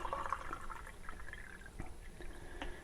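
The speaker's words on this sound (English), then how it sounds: "now I'll pour a little bit more water into this container" Water trickles and splashes faintly as it is poured through a funnel into a container while making homemade wine, with small drips and gurgles and no talk.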